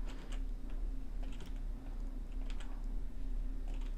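Computer keyboard keys are pressed during 3D modeling work: a few sparse, light clicks spaced apart over a steady low room hum.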